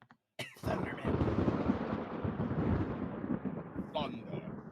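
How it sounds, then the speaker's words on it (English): Thunder sound effect for a Macbeth voice play: a sharp crack followed by a long, loud rumble that sustains and slowly fades over several seconds, with no speech. "Thunder."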